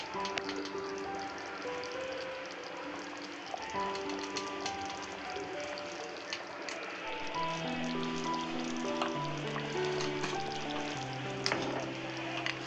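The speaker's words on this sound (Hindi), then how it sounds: "पनीर डालने के बाद बस 1 मिनट पकाएंगे" Paneer cubes cook in a pan of spinach gravy for palak paneer. A steady, close sizzle and bubbling continues evenly throughout, with no talking.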